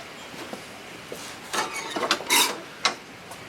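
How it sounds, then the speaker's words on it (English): Cub Cadet 833E mower's PTO engaging: a few faint mechanical clunks and ratcheting clicks, with a brief louder burst of metallic rubbing in the middle and a single sharp click near the end. "I'm going to engage the PTO to get this to release from here."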